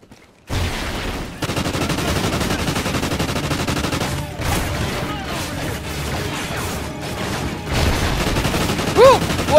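Sustained gunfire from automatic weapons in the single-player campaign of Call of Duty: Ghosts, a loud dense fusillade of rapid shots and crashes starting abruptly and rolling on for several seconds, with shouting voices mixed in.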